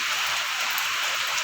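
Rain falls steadily, a dense even hiss of drops on surfaces that stays loud and unbroken throughout, with no voices.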